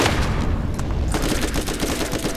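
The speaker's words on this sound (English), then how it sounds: "I love the explosion of fire that just happens with this gun" Rapid gunfire from a gun in the Borderlands video game, a loud close burst of dense repeated shots with fiery crackle, continuous through the moment and without talk.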